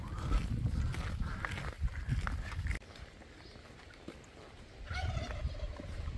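A turkey gobbles in bursts over a rumbling, wind-buffeted outdoor background on a walk along a farm track through fields, with a brief quieter lull before the calls return louder.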